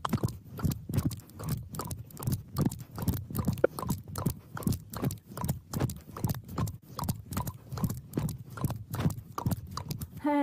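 During a fat-loss workout class, people imitate a horse with rapid, evenly spaced clip-clop clicks of the mouth, a steady trotting rhythm held up close for about ten seconds.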